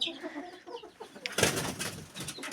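Stressed chickens near a hidden nest cluck softly, then erupt into a sudden loud flurry of squawks and flapping, close and busy until the end.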